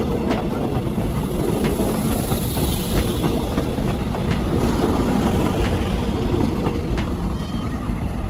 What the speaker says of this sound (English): Hybrid train, a double-powered train. It can run on electricity or switch to another fuel when needed.